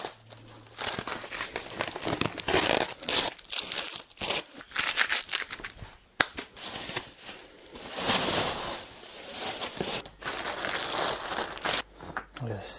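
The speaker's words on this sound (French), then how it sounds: "Je vais complètement déballer tout ce qu'il y a comme protection autour." Close, continuous crinkling and tearing of plastic protective packaging being pulled off an electric bike, with brief pauses between bursts.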